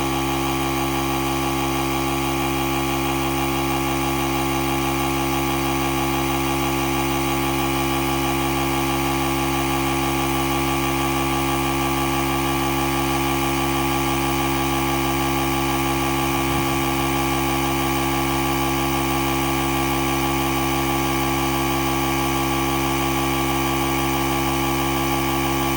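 A Tesla tire air compressor pump runs steadily with a constant, loud mechanical drone and no pauses.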